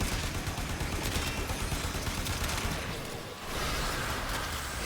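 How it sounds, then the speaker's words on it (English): Explosion and heavy weapons fire from a grenade attack in the mech combat video game MechWarrior 5: Clans, a dense continuous barrage with a brief dip before resuming, no talk. "they threw a grenade on me?"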